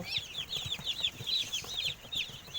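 Baby chicks peep in rapid, repeated high chirps, close by and fairly faint, over a soft low rustle.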